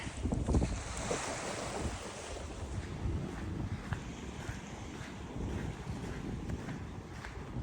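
Waves wash along a beach amid strong wind buffeting the microphone, a continuous rough roar with surging swells and no talking.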